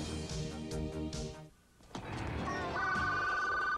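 A telephone rings in a 1992 New Orleans TV commercial for a rented Radiophone cellular phone with caller ID, sounding as bright repeated electronic trills over music, followed by a sustained steady ringing tone.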